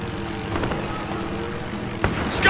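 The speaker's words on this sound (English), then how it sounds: "I see a scout chopper!" A scout helicopter flies in the video game Battlefield Hardline, its steady rotor chop droning under game noise, with a sharp bang near the end.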